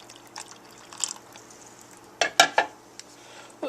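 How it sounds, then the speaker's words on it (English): Water poured into a pot of Tibetan meat porridge, a few short splashy pours and drips with light clinks of the pot, close and moderately loud amid quiet pauses. "I'm gonna add a little bit more water."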